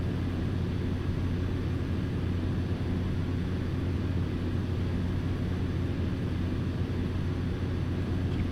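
Continuous broadband airplane cabin roar with a low engine drone from a simulated aircraft on a night approach into Miami through scattered storms, steady and unbroken throughout.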